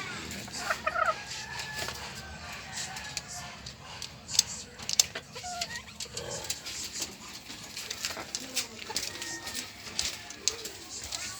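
Chickens in a small backyard coop, with scattered clucks and squawks over a busy farmyard background, fairly close but not loud, and a voice talking at times.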